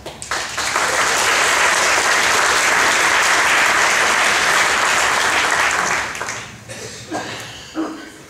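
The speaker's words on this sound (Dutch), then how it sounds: "Dames en heren, geef ze een warm applaus." Warm audience applause at a Harmony Airways concert in Moerbeke, after soloists on clarinet and soprano saxophone: a dense, loud, steady clapping that holds for about six seconds, then thins out into scattered claps and tails off.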